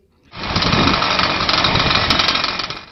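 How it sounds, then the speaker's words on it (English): A homemade aircraft engine roars to life, starting abruptly and then holding a loud, steady, buzzing drone at close range with no talk. "The engines roar to life"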